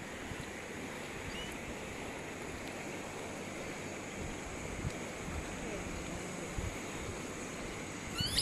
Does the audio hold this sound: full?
yes